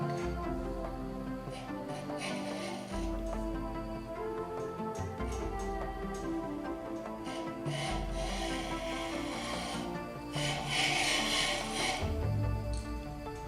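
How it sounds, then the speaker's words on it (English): A ridge reamer cuts the worn ridge from the top of a cylinder in a small-block Chevy stroker engine block, giving a steady close grinding and rasping scrape with faint rhythmic ratcheting clicks throughout, and no talk. "This was my first time using the ridge reamer, so I began very cautiously"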